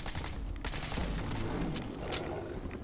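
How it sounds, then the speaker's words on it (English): Assault rifle gunfire in Fallout 4: dense, continuous automatic bursts with sharp overlapping cracks, loud and close throughout, with no talking. "Let's see what the assault rifle does."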